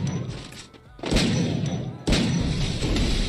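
Gunfire in a fast-paced mobile shooter game comes as a few heavy, booming shots at irregular intervals, close and punchy, with faint background game sound between them.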